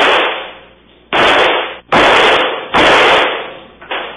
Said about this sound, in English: Then, like an action star, Miko started firing.